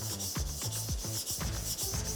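An SPG STRIX gyuto knife with a shinogi is drawn over a whetstone in quick, rhythmic gritty rubbing strokes, about eight per couple of seconds, close and quiet with no talk.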